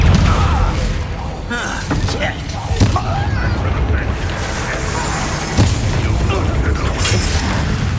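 A Descendo spell goes off in Hogwarts Legacy with a loud, booming magical impact and crashing burst, then rumbling mechanical clatter and debris that continue to the end.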